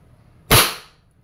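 A single sharp pop from a Wingun 708 CO2 airsoft revolver fired in single action, close and loud with a quick hissing tail that fades within about half a second.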